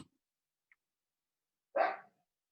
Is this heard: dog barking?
yes